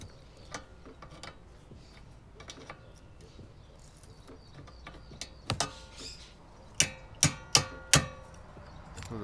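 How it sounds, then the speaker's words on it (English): Rusty bolts are unscrewed from a vehicle, first as faint scattered clicks and scrapes. These build into several sharp, loud metallic ratchet clacks near the end, close by and without talk. "So here I'm unscrewing all the bolts"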